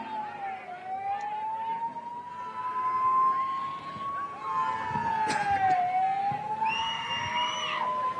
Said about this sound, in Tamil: தம்பி ஆம்புலன்ஸு ஆம்புலன்ஸ் வருது, வழி விடுங்கப்பா, ஆம்புலன்ஸ் வருது.